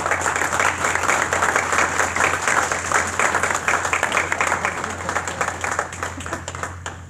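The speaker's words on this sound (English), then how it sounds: "I'd like to give you a round of applause and thank you for all your hard work." Sustained audience applause fills a town board meeting room, dense steady clapping from a crowd that holds for several seconds before tapering slightly toward the end, with a constant low hum underneath.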